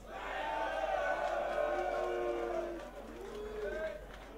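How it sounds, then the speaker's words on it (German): A live audience cheers and hollers during a vote, a sustained roar of voices that dips briefly and then swells again. "Jetzt hört mal das Publikum"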